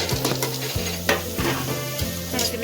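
Green chillies stir-fry with potatoes and cauliflower for aloo gobi, a loud steady sizzle broken by regular scraping strokes of a spoon against the pan about every half second.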